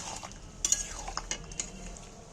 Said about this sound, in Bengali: এবার একটু নাড়াচাড়া করে নিচ্ছি গরম মশলাটা ঘেঁটে নিচ্ছি